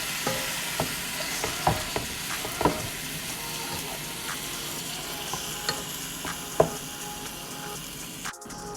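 Ground beef seasoned with adobo sizzles softly in a frying pan while a spatula stirs it, producing irregular light taps and scrapes over a steady low hiss, with no speech.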